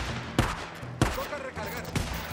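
Shotgun blasts in the open-world zombie game Days Gone, three loud, sharp shots spaced roughly half a second apart, each with a short tail over steady in-game ambience.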